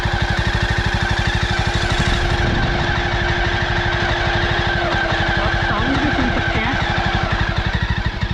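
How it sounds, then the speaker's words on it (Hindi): A Jawa motorcycle engine idles close by in a steady, even throb, with its radiator fan whirring along underneath at a constant level. "रेडिएटर फ़ैन आपको दिख रहा होगा।"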